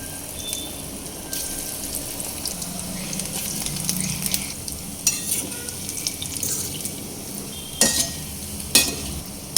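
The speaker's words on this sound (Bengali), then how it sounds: "সেকেন্ড ব্যাজের পাকোড়াগুলো সেমভাবে দিয়ে আমি ভেজে নেব" Jackfruit pakoras deep-frying in hot oil, a continuous close crackling sizzle punctuated by sharp spoon and strainer clinks against the pan, several of them toward the end.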